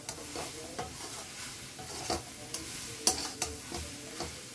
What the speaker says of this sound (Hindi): ये सबको मैं अच्छी तरह से मिलाऊंगी।